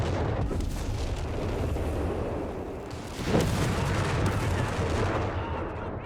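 German gunfire and artillery rumble from a Company of Heroes 3 battle, with Panzer IV and Fallschirmjäger troops engaged, a dense, continuous barrage of shots and booms that swells louder midway and stays busy throughout.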